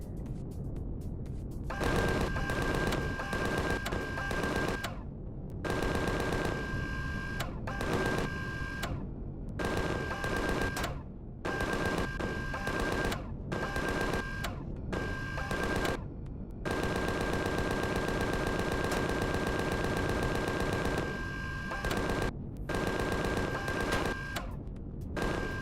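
Gatling guns in the space game Empyrion Galactic Survival hammer at a turret in long, loud, rapid-fire bursts broken by brief pauses, with no talking over them.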